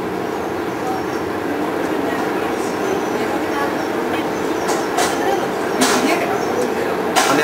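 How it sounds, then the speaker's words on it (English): Metro train pulling into a station in France, a low rolling rumble building with a few sharp clacks and bumps toward the end, while people talk nearby over it. "First train now they say."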